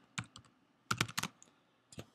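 Keys clack on a computer keyboard in sparse bursts: a few single taps, then a quick cluster of strokes and one final tap, close and crisp in a quiet room with no speech.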